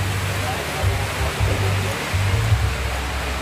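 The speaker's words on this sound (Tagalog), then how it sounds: "inabutan na po kami ng ulan dito" Steady rain pours down in a dense, continuous hiss, with low rumbles and faint voices mixed into the wash, heard close and fairly loud throughout.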